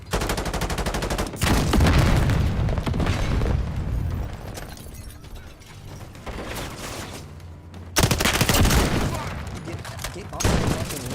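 Heavy gunfire and booming blasts in the MechWarrior 4 mech combat game, loud bursts layered thickly with a quieter lull midway before another sharp volley, with talk running underneath.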